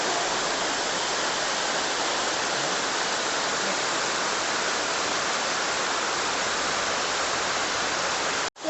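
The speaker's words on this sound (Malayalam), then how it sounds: "അടിയിലോട്ട് വെള്ളം നന്നായിട്ട് ഇങ്ങനെ ഒഴുകി പോകുന്നുണ്ട്." Perumbankuthu waterfall pours water down into the pool below, a dense, steady roar of rushing water that stays loud and even throughout, with no voices.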